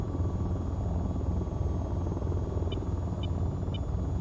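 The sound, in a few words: AH-94 stealth helicopter flying in video game VTOL VR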